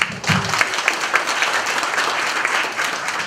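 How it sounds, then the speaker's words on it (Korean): Delegates at an assembly meeting give a brief round of steady applause to approve a list of appointments, a dense, even patter of many hands with no voices. "박수로 승인해 주시기 바랍니다."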